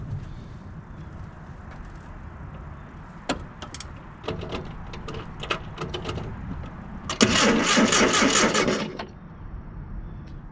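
Engine of an abandoned Nissan 720 pickup being cranked after sitting a long time: scattered clicks and knocks, then roughly two seconds of loud, harsh cranking that fades away.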